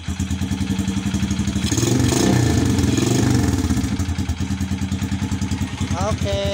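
A Honda XRM motorcycle engine idles up close after a rectifier regulator replacement, a steady rapid chugging pulse that swells briefly in the middle with clattering, then settles back to an even idle.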